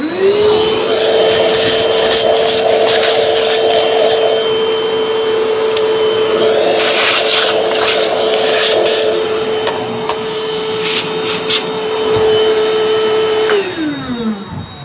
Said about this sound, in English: I have a vacuum over here. The Ryobi cordless wet dry to suck up all these pieces.